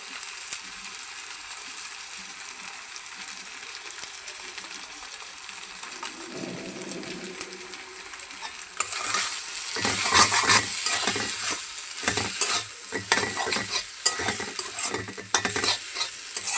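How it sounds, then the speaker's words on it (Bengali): Noodles stir-fried in a pan, first a soft low simmer, then louder sizzling with scraping and stirring strokes in the second half, close by and with no speech. "নুডলসটা আমি এখানে রেডি করে রাখছি, নুডলসটা দিয়ে দিলাম।"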